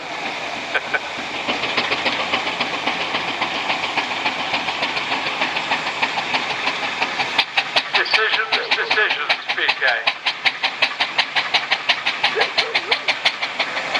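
A small steam engine chuffs and rumbles steadily at an outdoor steam fair, its rhythmic beats growing sharper and louder partway through, with people talking nearby.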